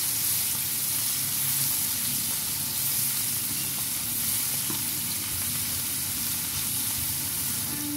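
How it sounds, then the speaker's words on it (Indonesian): A ground spice paste for a chicken lemper filling sautés in a pan, producing a steady, loud sizzle and crackle with occasional stirring scrapes, continuous throughout and without any talking. "Tumis bumbu yang sudah dihaluskan."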